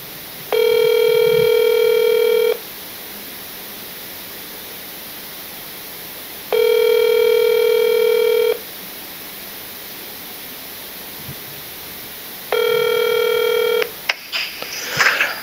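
A telephone rings three times during a live news phone-in broadcast, each electronic two-second ring separated by silence, followed by a brief click and rustle as the call connects.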